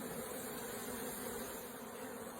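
Honey bees buzz in an open hive, a steady, close swarm drone with a bright whine that holds evenly throughout without voices.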